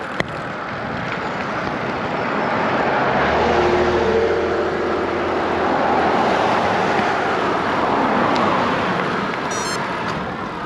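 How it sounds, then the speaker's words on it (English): Cars approach from behind a rider on a Brompton folding bike along a 40 mph road, with a low engine rumble swelling and fading over several seconds beneath steady wind roar. "Cars coming up behind you."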